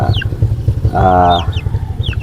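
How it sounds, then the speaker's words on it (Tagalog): Rhode Island hens cluck repeatedly up close, and midway a Brahma rooster lets out one drawn-out, rising crow over the low clucking. "isang tandang na Brahma at apat pala na Rhode Island na babae"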